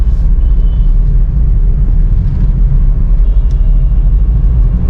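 A car engine rumbles steadily at close range as the car turns, a low continuous drone with faint road noise and no voices.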